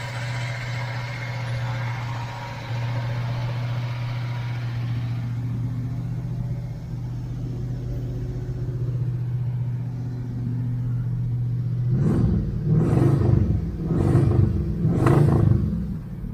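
A 1978 Chevrolet El Camino SS engine runs just after start-up with a steady low idle rumble, then a few louder surges and knocks toward the end.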